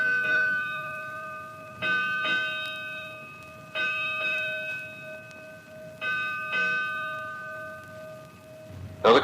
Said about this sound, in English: we're greeted by the ship's bell.